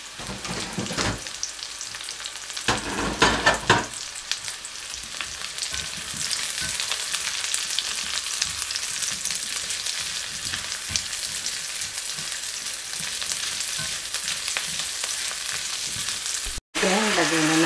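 Onion frying in a pan with garlic, a steady loud sizzle running nearly throughout, with a few clinks of stirring near the start and a brief dropout just before the end.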